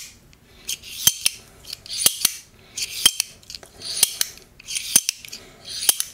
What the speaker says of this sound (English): Gravity is doing all the job right here, allowing the blade to slide open and to slide close.